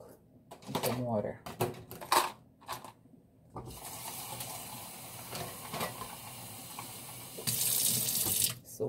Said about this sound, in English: Let's put these to soak in some water.